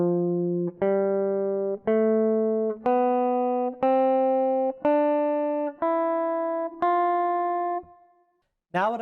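An open F Lydian scale on guitar, eight clean single notes climbing steadily in an even rhythm, each ringing until the next, then a brief trailing sound at the end.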